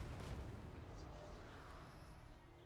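Tomb Kings unit firing in a Warhammer battle game: a low, rumbling burst of artillery-like booms that rolls on steadily for a few seconds, with faint voice-like sound underneath.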